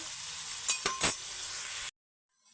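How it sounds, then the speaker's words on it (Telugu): Onions frying in a pan of oil for tomato rice give a steady close sizzle, broken by a few sharp clinks of a utensil against the pan before the sound cuts off abruptly. "ఇవి వేగిన తర్వాత ఆనియన్స్ వేగేదాకా మనం ఫ్రై చేసుకోవాలండి."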